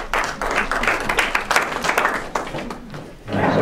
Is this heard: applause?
yes